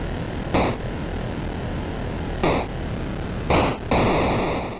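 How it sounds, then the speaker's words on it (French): A steady, buzzing synthetic airplane engine drone from an Atari video game on an Atari Flashback 8 Gold HD, with noisy static texture, broken by a few short bursts of brighter noise, loud and continuous without speech. "Écoutez le bruit du moteur d'avion."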